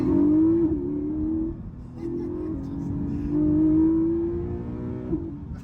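A Porsche 718 Boxster GTS 4.0 with the top up accelerates hard from first gear, its engine note climbing steadily through the revs, then dropping briefly at a shift and climbing again, heard loud from inside the cabin.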